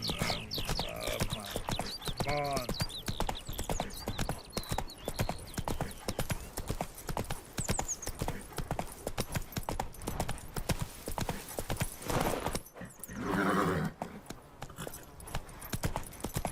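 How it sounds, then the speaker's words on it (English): Horse hooves clip-clop in The Witcher 3 video game. They beat quickly and evenly throughout, close and loud, with a brief louder burst near the end. "Whoa there, Roach."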